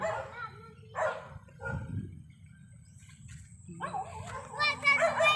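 A dog barking on a rural farm path, a few sharp barks close by, mixed with people talking as they walk.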